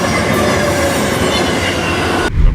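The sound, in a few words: passenger train slowing into Ventimiglia station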